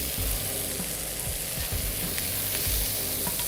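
Chicken sizzles loudly in a hot pan as it is shaken, a steady dense frying hiss with low thumps and scrapes of the pan moving, close and continuous with no talking.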